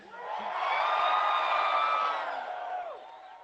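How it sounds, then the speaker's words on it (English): A large crowd at Pierre Poilievre's campaign rally in Edwards, Ontario cheers and whoops, the roar swelling quickly, holding loud for a couple of seconds with shrill whistles and shouts, then fading away. "what an incredible crowd"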